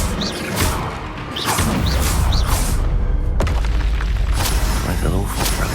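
Spell blasts from the Hogwarts Legacy video game, including the Bombarda explosion, boom one after another as heavy thuds and crashing bursts over a dense, continuous rumble of game noise.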